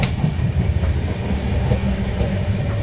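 The Humsafar Express rumbles along the rails at speed, a loud, dense low roar with faint rhythmic clatter heard from inside the coach, continuous throughout.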